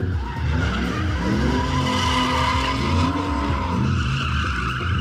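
A Nissan Skyline and an Opel GT drifting at a Kraków moto show, tires squealing and skidding continuously over droning engines, loud and close with rising and falling pitch.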